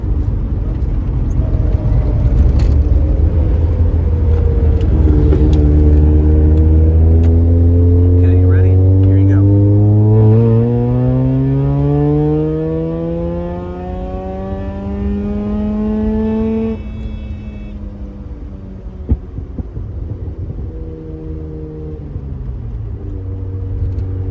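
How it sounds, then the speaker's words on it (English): A Mazda RX-7 rotary with a Racing Beat exhaust, heard from inside the car, climbs loudly in pitch through a second-gear pull toward 7,000 rpm, then drops back to a lower, rougher idle. "I'm going to get on the throttle so you can hear what it's like from in the car in a second gear pull"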